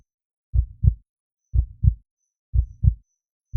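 A human heartbeat thumps in clear lub-dub pairs, three full beats about a second apart, close and isolated against silence.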